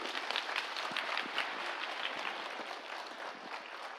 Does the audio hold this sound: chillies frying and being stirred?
no